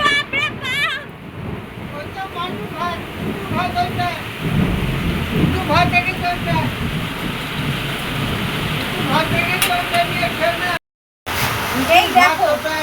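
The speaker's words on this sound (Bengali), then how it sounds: "যা বৃষ্টি হচ্ছে কেউ গলা শুনতে পাচ্ছে কিনা আমার সন্দেহ আছে" Heavy rain pours steadily with rumbling thunder, loud and continuous, while people talk over it.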